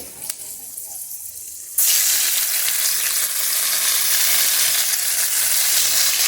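A sudden loud sizzle erupts as ginger, cumin and coriander paste hits hot oil, then keeps hissing and crackling steadily for several seconds.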